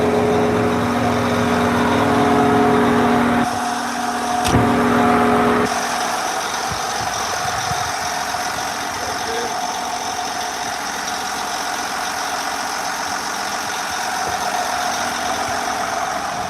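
A John Deere tractor's engine idles nearby with a steady, low mechanical hum, briefly louder and rougher early on, then settling into a quieter, even idle for the rest.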